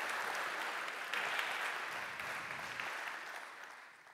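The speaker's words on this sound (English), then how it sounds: "Give him a round of applause for that." Audience applause at a PHP conference talk, a sustained wash of clapping in a large hall that holds steady and then starts to fade toward the end.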